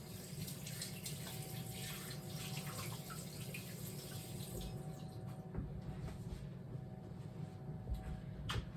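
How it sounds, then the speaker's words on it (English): A kitchen tap runs steadily as hands are washed, the water splashing close into a sink with light rustles and a clunk or two, then easing off toward the end. "Wash my hands real quick."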